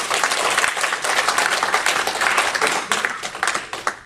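A church congregation claps together in praise, a dense, steady wash of applause filling the whole stretch at even loudness, with a few sharper individual claps near the end and no talking.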